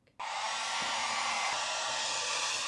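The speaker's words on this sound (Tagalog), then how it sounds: "Mag-blower muna ako. Napakatagal na nitong blower na to. Yung Panasonic." A Panasonic hair dryer switches on after a brief quiet moment and then blows with a steady, loud, close-up broadband whoosh that runs on alone without any break.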